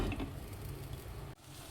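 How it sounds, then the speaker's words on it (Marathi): Ginger, garlic and coriander paste fries in hot oil for mutton curry, giving a close, steady sizzle that breaks off briefly near the end, with no talking. "आता मी टाकत आहे आलं लसण आणि कोथिंबीरची पेस्ट."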